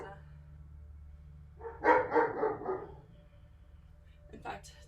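A dog barks in a quick burst of several yaps in the middle, close and fairly loud, over a steady low hum during a slow yoga session, with a faint voice toward the end.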